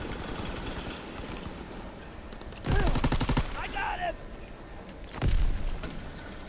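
Gunfire from the Call of Duty WWII online multiplayer game rings out in two loud automatic bursts, the second shorter, over a busy background of in-game noise and a voice talking briefly.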